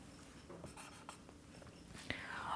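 Pen writing a number on paper or a board while triangles are counted, faint scratchy strokes in short bursts, close and quiet with no talking.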